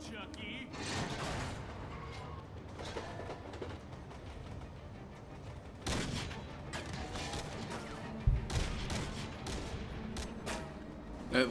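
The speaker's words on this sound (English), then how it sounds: "The recoil on that gun does not seem realistic." Gunfire in the video game Dead Rising 2, a busy stretch of game action with repeated shots and crashes under a dense background, including one sharp loud bang near the end.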